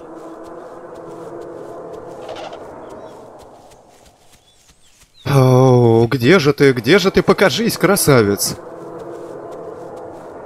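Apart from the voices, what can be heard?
dinosaur cry in the video game The Isle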